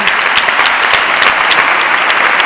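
Loud, dense applause from a crowd at a medical school graduation ceremony, sustained and even with many individual claps blending together close by.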